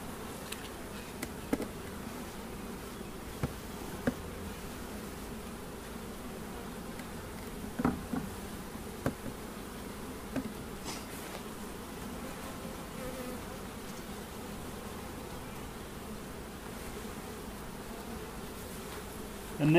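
Honey bees hum continuously around a hive frame lifted during queen raising and cell grafting, a close, even drone with a few brief knocks and bumps rising above it.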